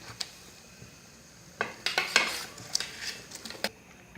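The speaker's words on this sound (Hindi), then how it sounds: "अब इसमें हम एक एक करके आराम से फिश को डालेंगे।" Fish pieces go one at a time into a pot of boiling Mithila-style curry gravy, making scattered clinks and splashy knocks of metal cookware and a bubbling sizzle, loud bursts coming in a cluster midway.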